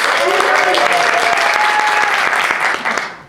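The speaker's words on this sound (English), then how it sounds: "pray indicate with your applause your favorite for the female side of our lovers duo" Theater audience applauding for the character Helena Landless during The Mystery of Edwin Drood, a full, steady burst of clapping with cheering that fades away at the end.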